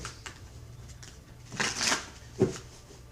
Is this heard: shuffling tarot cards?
yes